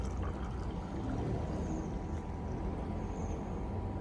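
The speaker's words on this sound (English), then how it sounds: "I'm gonna have to pour this nice cup of tea," A cup of tea being poured, a steady liquid stream splashing continuously for several seconds at close range, with no talking over it.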